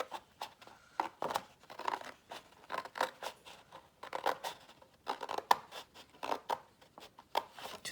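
Scissors cut through a paper card along a line in short, repeated snipping bursts, quiet and close, with small crisp rustles between cuts.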